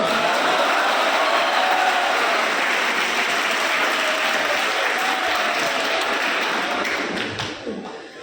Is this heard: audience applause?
yes